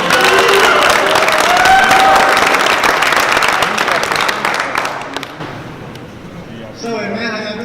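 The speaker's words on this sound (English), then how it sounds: "please give a big round of applause" Loud applause with some cheering from a crowd inside Pelican Bay prison for a rapper, gradually fading; a voice starts speaking near the end.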